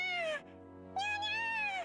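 A cat in the Duet Night Abyss video game gives two clear, close meows, a short one and then a longer drawn-out call after a brief pause, over a soft musical background.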